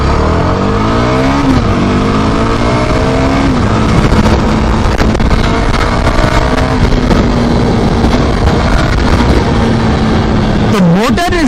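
A 330cc motorcycle engine pulls in first gear, its revs climbing and dropping in loud, close sweeps over steady road and wind noise, with a final sharp rev near the end.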